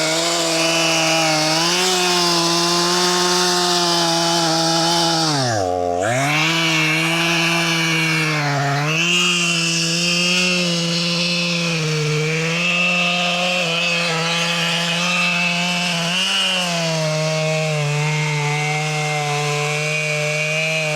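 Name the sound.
chainsaw boring into a tree trunk while felling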